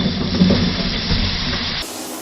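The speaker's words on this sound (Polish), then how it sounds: "Na patelni rozgrzej masło i usmaż tą cebulę." Onion sizzling in hot butter in a frying pan, a steady loud hiss and crackle that runs continuously before cutting off abruptly near the end.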